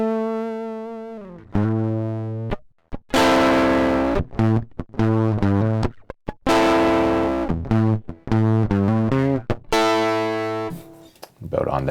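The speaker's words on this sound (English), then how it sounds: "Let's hang out on some distortion or saturation for a little bit." Tones passed through the distortion effect of Kalide's Collage audio plugin, heavily saturated harmonic notes that start and stop in short phrases with gaps of silence between them.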